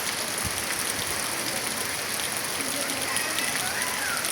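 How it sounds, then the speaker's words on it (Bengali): Monsoon rain falls with a dense, steady hiss of drops on surfaces that stays even throughout, and speech can be heard faintly at times. "শ্রাবণের বৃষ্টি।"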